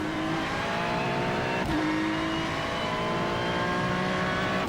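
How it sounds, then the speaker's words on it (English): A race car engine drones steadily at the pits, its tone holding and shifting slightly as it nears and goes by, loud and continuous with no talk over it. "There's a car approaching."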